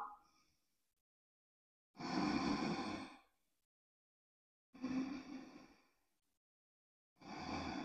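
Three deep, slow breaths held in a yoga warrior III pose, each a long, airy, audible exhale separated by silent pauses, close and fairly quiet.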